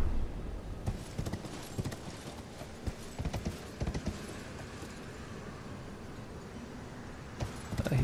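A horse ridden in Elden Ring: Shadow of the Erdtree trots along with steady, rhythmic hoof clip-clops, close and fairly loud, fading into quieter stretches before the steps pick up again at the end.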